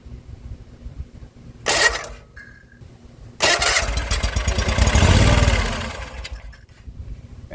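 A Gravely Z34 zero-turn mower engine, sitting two years with a gummed-up carburetor, cranks briefly, then catches and sputters into a rough, loud close-up run.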